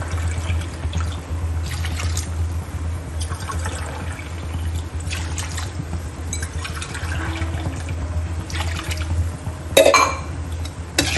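Five cups of water poured onto rice in a pressure cooker for chicken biryani, a steady trickling pour with a low hum underneath and a brief louder splash near the end.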